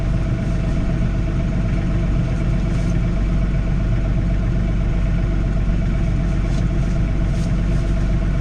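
A John Deere 3046R compact tractor engine idling on a snowy driveway, heard as a loud, steady low rumble with a constant droning hum that holds even throughout and has no talk.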